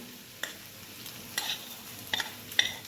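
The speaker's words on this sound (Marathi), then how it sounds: "तेल गरम करून ठेवलं आहे त्यात आता ठेचा कुठलेला टाकून घेणार आहे आणि तिला त्याला तेला छान तळून घ्यायचं आहे" Crushed garlic frying in hot oil, with a soft steady sizzle and a few sharp spoon scrapes and taps against the pan at irregular intervals, close and fairly quiet.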